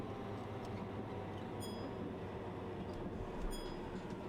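Steady rolling rumble of a train coasting downhill in the driving simulator Train Drive ATS, continuous and even throughout with a couple of faint high tonal blips, and no voices.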